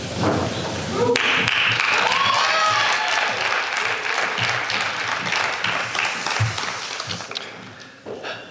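An audience at a student awards ceremony breaks into sustained applause, dense clapping that swells quickly, holds for several seconds and then slowly tapers off.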